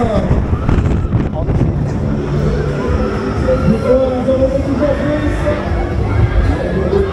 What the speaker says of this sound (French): le Fly Zone commence dans 3, 2, 1, bon voyage. Et on y va, c'est parti, accélération.